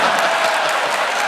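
A crowd at a live comedy podcast taping sounds off in a steady, dense wash of clapping and murmur, loud and continuous with no single clapper standing out.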